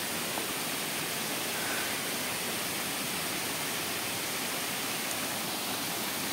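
A waterfall at Keonjhar, Odisha, heard as a steady, dense roar of rushing water close by, unbroken and uniform from start to finish with no voices.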